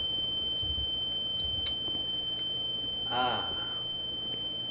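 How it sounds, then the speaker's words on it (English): A loud, steady high-pitched ringing tone drones without a break in The Town of Light, with a faint voice briefly murmuring and a few soft thuds beneath it. "with headphones, that's really loud ringing"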